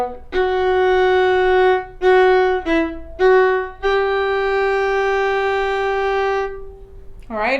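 A violin plays the opening phrase of a song, a handful of clear, sustained bowed notes with short breaks between them, ending on a long held tone.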